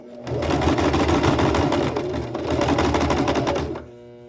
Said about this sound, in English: And then you're going to just stitch as close to the edge as you can.